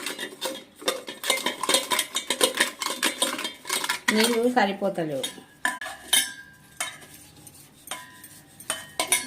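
Brass pooja utensils are scrubbed and stirred around in a bowl, making busy repeated metallic clinks and scrapes at close range, with a brief spoken line in the middle.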